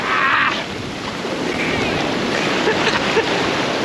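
Strong sea waves surge and crash in a continuous loud roar, with wind buffeting the microphone throughout.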